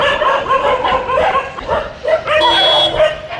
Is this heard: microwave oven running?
no